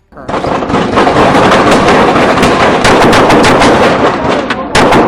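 Police officers fire a dense volley of gunshots near a dashcam, a loud and continuous burst of rapid overlapping shots lasting several seconds, with shouting mixed in.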